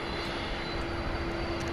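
FedEx jet on final approach at night toward Alliance Airport in Fort Worth, a steady distant engine roar and whine holding constant throughout with no talking.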